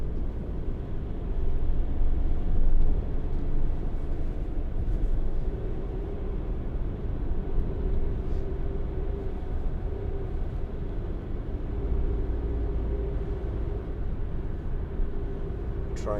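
A 2015 Volkswagen Transporter Shuttle drives on an icy, slippery road, its steady low engine and road rumble running continuously throughout with little change.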